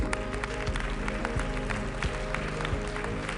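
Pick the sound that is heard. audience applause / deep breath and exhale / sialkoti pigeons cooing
audience applause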